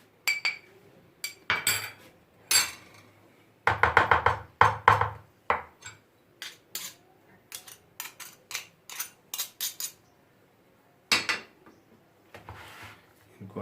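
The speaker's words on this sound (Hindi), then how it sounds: "इनको अच्छी तरह से मिक्स करना है, इनको यकजा करना है।" Spoon scraping and clinking against a bowl as salt and black pepper are mixed into ingredients for chicken vegetable cutlets, with irregular bursts of close, sharp clatter separated by short quiet gaps.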